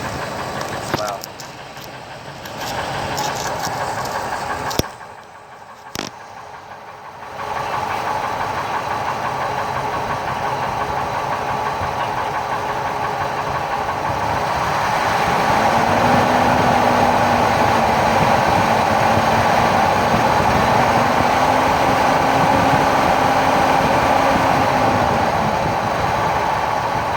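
A 2000 truck's 5.4 engine idles up with a steady, rhythmic knocking under the running engine, heard close for almost half a minute, with a brief clunk early on and the pitch rising as revs increase.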